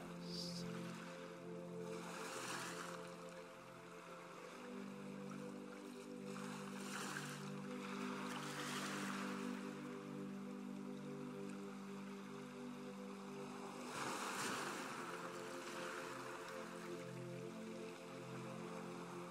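Soft waves wash in slowly at intervals on a calm beach, faint and distant beneath gentle sustained tones.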